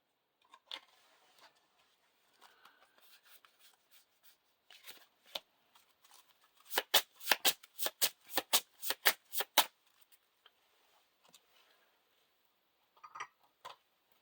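A deck of playing cards for the Lord of the Rings card game being shuffled: soft scattered riffles build into a dense run of sharp, rapid card flicks mid-clip, then trail off into quiet handling, close and alone.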